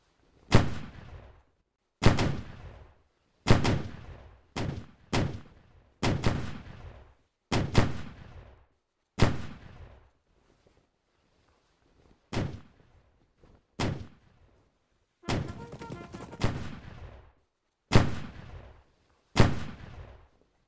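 Booming gunshots and artillery fire from the Civil War strategy game Grand Tactician, a Confederate campaign: about a dozen loud, sharp blasts with decaying tails, spaced irregularly over the stretch with brief quiet gaps between.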